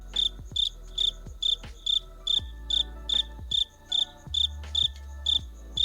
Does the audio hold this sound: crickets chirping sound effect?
yes